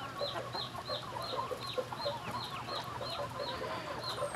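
Chickens cluck in a quick, regular series of short calls while pecking at feed mixed with dried fish, fairly faint over a low steady hum.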